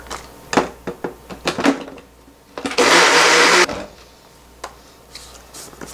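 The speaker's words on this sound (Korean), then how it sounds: "이거를 믹서기에 살짝 갈아줄게요." A kitchen blender briefly grinds onion with a small splash of water, a loud, steady whirring burst of about a second after scattered clatter and knocks.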